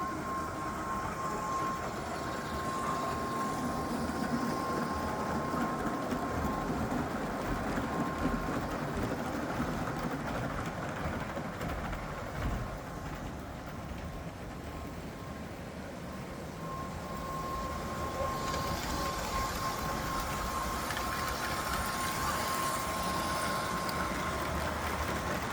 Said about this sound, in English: the locomotives with 4 train motors is readily capable of running the train up the